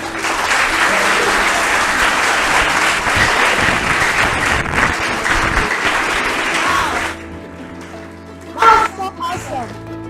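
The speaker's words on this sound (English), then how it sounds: "Please, a round of applause for them once more" Audience applause following a student debate speech on lowering Nigeria's voting age to 16, loud and sustained across a hall for several seconds before fading, with scattered voices near the end.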